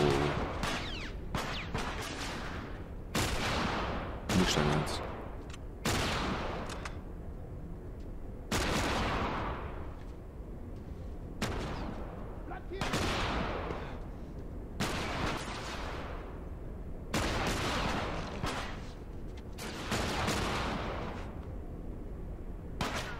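Gunfire in The Last of Us: repeated sharp, heavy shots and bursts ring out at irregular intervals, each with a booming decaying tail, loud and close throughout with no talking over them.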